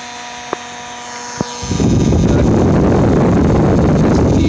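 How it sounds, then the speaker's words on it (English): Small electric motor on a rotary commutator test rig, powered at about 6 volts from a supply, spins up after two brief clicks into a loud, steady whirring drone with a sustained whine that continues to the end. "The power supply for the motor, it's running about the minimum 6 volts."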